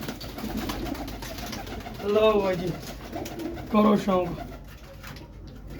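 Someone talks over a quiet background while a couple of pigeon coos come through faintly; the pigeons are at a pigeon sale.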